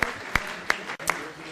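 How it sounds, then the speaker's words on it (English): A few scattered handclaps, about four separate sharp claps spaced unevenly, from an audience at a city council meeting applauding a youth soccer academy team; moderately close and sparse rather than a full round of applause. "All right, give them a nice round of applause."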